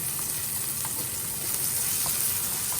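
Shrimp and vegetable fried rice sizzles steadily in a hot wok as a wooden spoon stirs and tosses it, giving faint scraping taps over the constant loud frying hiss, with no voices.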